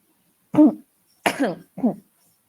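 Three separate coughs, close and fairly loud, with short pauses between them and no talking.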